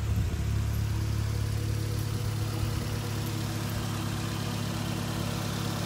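A 1992 Toyota Starlet GT Turbo with an aftermarket exhaust idles close by, a steady low engine hum with a faint rev near the start, running alone without talk.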